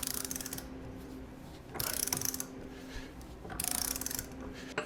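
A torque wrench set very high, ratcheting while it tightens a bolt on a 1976 Triumph TR6 during engine and transmission work. Two clear bursts of quick metallic clicks stand over quiet background.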